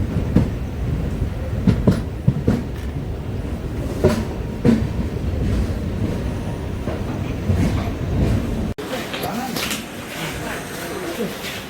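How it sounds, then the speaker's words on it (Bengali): The Kanchanjunga Express rumbles along the rails, heard from inside a general-class coach as a steady low roar broken by repeated clicks and clanks of the wheels, fairly loud and continuous throughout. "আর এই ট্রেন এসে পৌঁছালো কামাখ্যাতে, আমার ফাইনাল ডেস্টিনেশন।"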